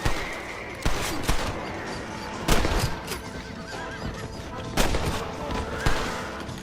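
Gunshots ring out in the Western video game Red Dead Redemption, about five sharp loud cracks spaced a second or more apart, over horse whinnies and hoofbeats and bits of game background sound.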